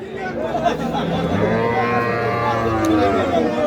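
A dairy cow lows at a cattle market, one long, loud, close moo held for several seconds over a faint murmur of people in the background.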